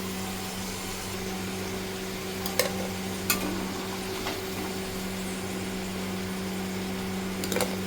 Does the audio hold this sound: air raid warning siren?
no